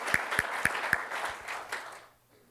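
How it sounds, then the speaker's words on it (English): Lecture audience applauding at a talk on Los Angeles climate futures, with a few sharp nearby claps over a dense wash of clapping that fades out after about two seconds. "let's give them a round of applause"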